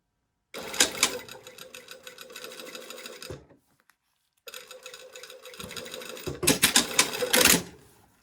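A sewing machine stitches down the tape of an invisible zipper in two loud, fast, rattling bursts, separated by a short pause with a faint click.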